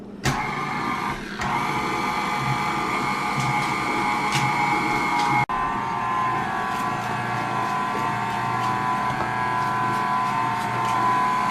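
An electric mixer runs steadily on low speed, blending flour into a chocolate cake batter in a kitchen. The motor whir is continuous and fairly loud, with a brief dip around the middle and no talking.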